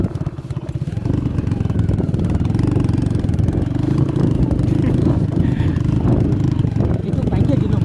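A motorcycle engine runs steadily while riding over a rough, muddy village road in rural southern Khulna, a continuous mid-pitched drone with rattling clatter, close and loud, with people talking over it.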